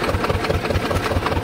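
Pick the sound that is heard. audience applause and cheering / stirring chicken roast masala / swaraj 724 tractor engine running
swaraj 724 tractor engine running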